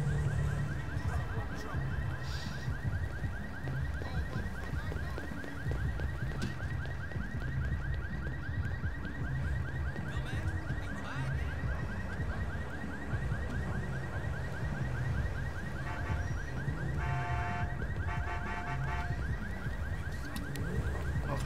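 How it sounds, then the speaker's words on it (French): A car horn in GTA role-play blares as one steady sustained tone for over twenty seconds. Rapid extra honks stack on top near the end, over a low rumble of engine and ambient game noise. "ça klaxonne"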